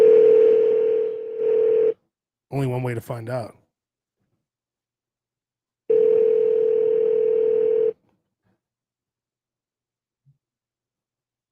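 A steady telephone dial tone on a call to Willie Mae's Scotch House restaurant sounds for about two seconds, gives way to a brief spoken remark, then returns alone for another two seconds before cutting off into silence.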